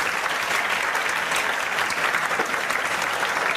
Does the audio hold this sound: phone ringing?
no